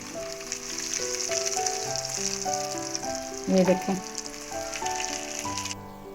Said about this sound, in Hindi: अब हम कबाब फ्राई करना शुरू करेंगे।